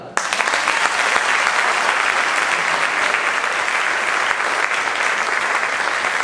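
An audience at a wedding celebration event breaks into applause, starting abruptly and holding as a loud, dense, steady roar of many hands clapping, with no talking over it.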